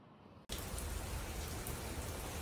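Rain suddenly starts pouring after a brief quiet moment, then holds as a dense, loud, even hiss of drops striking surfaces, with no voices.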